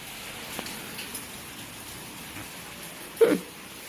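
Steady, soft rain hisses continuously, with a few faint drips and one louder thud near the end.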